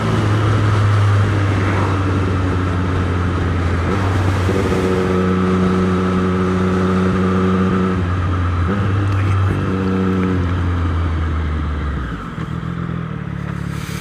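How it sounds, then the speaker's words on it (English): A car engine drones steadily at high revs, close and loud. Its pitch climbs in two strained surges that hold flat as if pinned against the rev limiter, then the engine drops away near the end. "That's the first time I've hit rev limiter"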